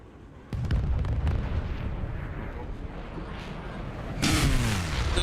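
A War Thunder missile launch opens with a sudden loud whoosh, followed by a sustained roaring rumble and a second heavy burst as the missile strikes its target near the end.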